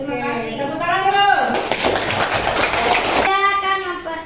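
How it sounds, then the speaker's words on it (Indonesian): A classroom of students bursts into a short round of hand clapping, dense and near, lasting under two seconds between stretches of speech. "Tepuk tangan dulu."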